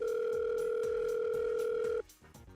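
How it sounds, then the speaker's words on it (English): A telephone emits a steady, loud two-tone ring that holds for about two seconds and then cuts off abruptly, leaving quieter background sound. "The phone's ringing."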